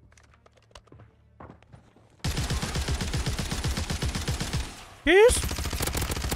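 Gunfire in a PS5 shooter video game rattles out in rapid automatic bursts, loud and close, followed by a sweeping whine; someone speaks briefly over it.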